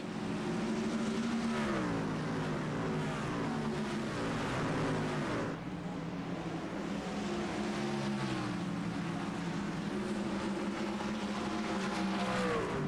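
Race cars circling the Bristol short track during an ARCS High Octane Series 150 race, a steady loud roar of engines that stays continuous and dense for the whole stretch.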